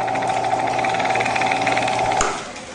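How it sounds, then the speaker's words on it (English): A drill press spins to wind wire for a homemade FM radio, its motor giving a steady, loud buzzing whine that cuts off abruptly near the end. "now I'm just going to slide this over the drill press."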